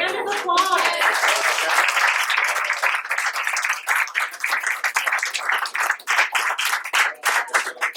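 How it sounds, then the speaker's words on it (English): Applause at a school board meeting as students are honored, many hands clapping briskly and close, swelling then thinning into scattered claps, with children's voices mixed in at the start. "A round of applause."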